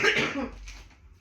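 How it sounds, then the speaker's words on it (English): One harsh, close cough burst that quickly trails off into quiet. "I have to cough"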